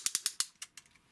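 A quick run of sharp plastic clicks from a Fanstoys Phoenix Transformers figure's joint ratchet, about seven or eight, evenly spaced at first and then fading, close and crisp.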